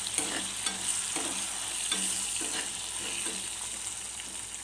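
Tempering seeds fry with asafoetida in hot oil for mango pulihora, a continuous close sizzle broken by repeated stirring scrapes.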